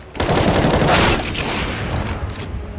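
Rapid bursts of gunfire in the video game CS:GO during a FACEIT London 2018 match, loud, dense and continuous, with a sharp peak of shooting early on and a steady crackle after.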